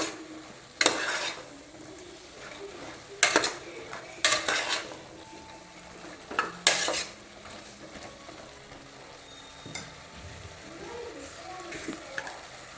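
A spoon scrapes and clanks in a pot of vegetable and field bean sambar, several loud stirring bursts over a soft simmering sizzle, no voices.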